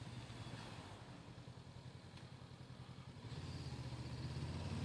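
Motorcycle riding along roads on Madeira, ridden by a beginner rider about to overtake; a steady, close engine drone with low harmonic bands fills the whole stretch, growing louder and deeper as the throttle opens near the end.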